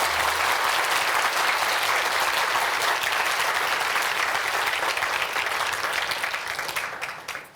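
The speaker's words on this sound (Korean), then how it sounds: "찬양 감사하다고 박수 좀." An audience in a church lecture hall claps in sustained, dense applause for several seconds, close and loud, before thinning out and fading at the end.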